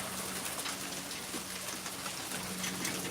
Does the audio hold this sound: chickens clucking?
no